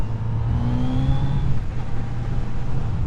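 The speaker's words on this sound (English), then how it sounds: "you can get a feel for the sound of the non-decatted exhaust" A Kawasaki Z900RS motorcycle with its non-decatted exhaust drones steadily while being ridden, a continuous low engine hum with rising harmonic whine, close and fairly loud with no talking.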